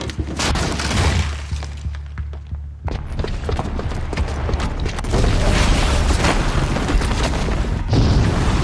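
A booby-trapped bomb explodes in the video game Horizon Zero Dawn, a loud, sustained booming rumble with crashing, shattering debris layered through it for several seconds.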